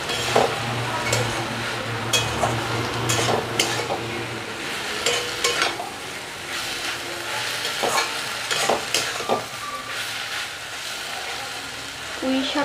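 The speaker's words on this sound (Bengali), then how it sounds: "করে নাড়াচাড়া করে নেব এবং সরিষা কাঁচা গন্ধটা যাতে মরে যায় সেটার জন্য একটুখানি কষিয়ে নেব" Mustard paste fries and is stirred with Malabar spinach in a pan, a close steady sizzle broken by scraping strokes and occasional clinks of a spoon against the pan, with a low hum early on.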